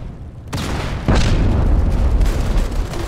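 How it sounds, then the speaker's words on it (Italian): A grenade detonates in the shooter game Modern Combat 5: a loud, close boom about a second in, following an earlier thud, then a heavy low rumble that lingers to the end. "Lanciamo un'altra granata"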